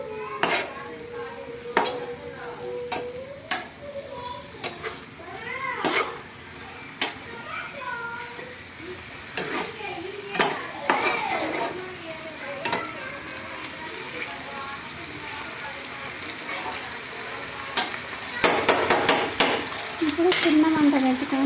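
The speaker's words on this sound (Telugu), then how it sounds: "తాలింపు పైకి కలబెట్టుకోవాలి" A spatula stirs a tempering of spices frying in a pan: repeated metal scrapes and clinks over a steady sizzle, close by, with voices talking at times, including a child's.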